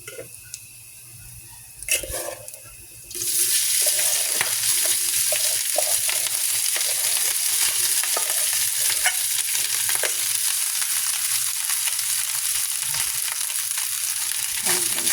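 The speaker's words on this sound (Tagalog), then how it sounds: "Ating fried rice." Fried rice for a Filipino breakfast frying in a pan, starting with a few clinks and quiet moments, then a loud steady sizzle kicks in and continues with scraping stirs throughout.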